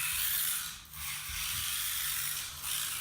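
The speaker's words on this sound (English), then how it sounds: "Here you can see the Porsche motor running in the Camaro" A tiny Porsche micro RC car motor running inside a Camaro micro RC body, giving a thin, steady high-pitched whirring hiss with a couple of brief dips.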